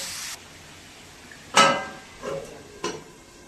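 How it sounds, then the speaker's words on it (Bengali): A lid set onto a pot of cooking meat: one sharp metallic clank rings out close by, followed by two softer knocks as it settles, over a faint background hiss. "খুব সুন্দর করে নাড়া দিয়ে নিয়েছি এবারে ঢাকা দিয়ে দেব"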